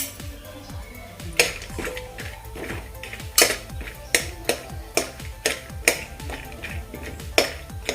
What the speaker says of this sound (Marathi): आता यामध्ये पहिल्यांदा आपण बदाम भाजून घेऊयात फ्राय करून घेऊयात